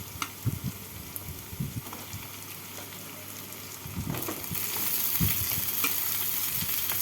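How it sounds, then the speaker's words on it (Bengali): Cut ridge gourd and potato pieces go into a pan of frying onion, giving a few thumps and spatula scrapes at first, then a sizzle that swells louder and steadier toward the end, close and without speech. "এবার এর মধ্যে কেটে রাখা ঝিঙে আর আলুগুলোকে দিয়ে দেব।"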